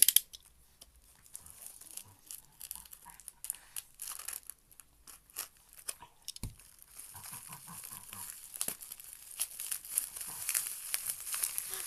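Parcel packaging crinkled and torn open up close, giving quiet, irregular bursts of rustling plastic and paper with brief crunches and rips, and no talking.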